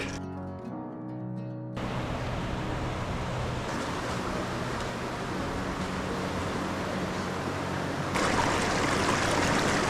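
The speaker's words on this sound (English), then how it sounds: "The stream where we can fill up our water bottles is just right down there." A mountain stream along Hawaii's Kalalau Trail rushes in a steady, broad wash of flowing water, fairly close and continuous, with a brief tonal hum at the start and no talking.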